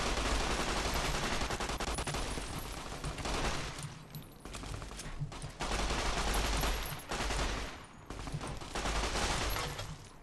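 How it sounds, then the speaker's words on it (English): Rapid bursts of 9mm submachine gun fire in Fallout New Vegas, loud and dense, broken by short pauses between volleys. "Next weapon. Revolver? Nah. 9mm submachine gun."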